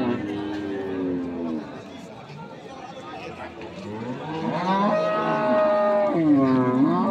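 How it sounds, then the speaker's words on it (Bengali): Dairy cows with calves at the Ambari cattle market in Dinajpur moo loudly and close, one long low call followed by a rising, drawn-out bellow, over a background of crowd chatter. "বাচ্চা ভারী গরু।"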